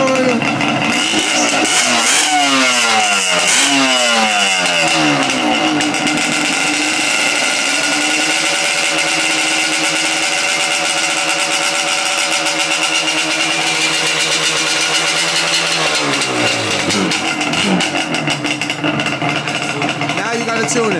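Yamaha Banshee ATV two-stroke engine catching and revving hard, sharp rising and falling revs followed by a buzzing idle, then another rev burst, loud and close with voices at times.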